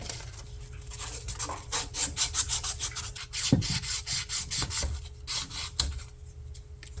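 An outboard impeller housing from a Mercury 75 is rubbed with 400 grit sandpaper in quick, rhythmic back-and-forth rasping strokes, close and steady with brief pauses.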